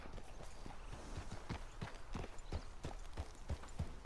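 A horse's hooves walk in a steady clip-clop rhythm of about two to three evenly spaced thuds per second in the Red Dead Redemption 2 video game, quiet, set over a constant background hiss.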